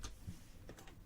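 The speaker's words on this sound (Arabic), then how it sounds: "نكتب الكلمة على فرض اسطنبول." Quiet keystrokes on a computer keyboard while typing a word into Photoshop, a few soft clicks in a short burst.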